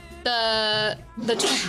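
A single sharp sneeze with a voiced, tonal onset followed by a breathy burst, close and loud.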